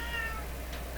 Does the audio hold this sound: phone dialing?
no